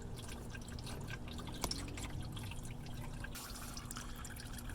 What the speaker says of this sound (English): So while this is still draining,